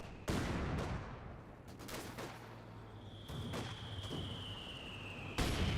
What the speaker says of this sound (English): Mortar half-track firing about.